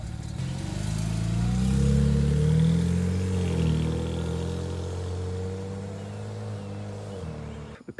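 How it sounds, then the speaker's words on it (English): A BMW 335 pulls away, its engine note swelling loud for a few seconds, then steadily fading as the car moves off into the distance. "BMW is leaving."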